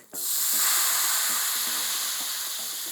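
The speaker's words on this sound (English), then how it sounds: "So we want to deglaze that with some white wine." Sauvignon Blanc white wine poured into a hot chorizo pan to deglaze it, erupting into a loud, steady sizzle and hiss that fades slowly, with faint stirring scrapes underneath.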